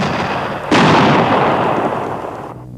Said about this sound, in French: j'entends les bombardiers à nouveau sur la ville